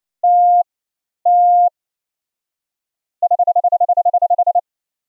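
Morse code CW tones sent from FLDigi software and CW paddles: two long steady beeps, a pause, then a fast run of short even pulses at one clear pitch, loud and alone.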